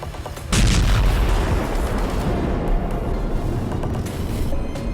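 A sudden heavy boom bursts in and gives way to a loud, sustained rumbling roar that continues without letting up.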